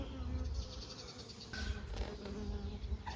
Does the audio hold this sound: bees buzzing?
yes